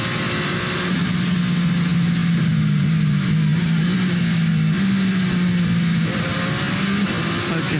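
Race cars at the 6 Hours of Nürburgring endurance race, with a Toyota and Porsche in the field, make a loud, steady engine drone that shifts pitch as they pass, continuous throughout.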